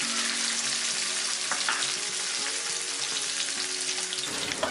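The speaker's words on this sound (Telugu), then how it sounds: "వీటిని 5-6 నిమిషాలు మీడియం ఫ్లేమ్లో వేయించుకోవాలి." Capsicum fries in a pan over a medium flame, giving a continuous close sizzle with soft crackles and faint stirring scrapes throughout, no voices present.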